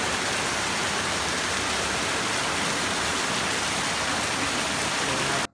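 Rawana Falls, a large waterfall, roars as a dense, close and unbroken rush of falling water that cuts off abruptly at the very end.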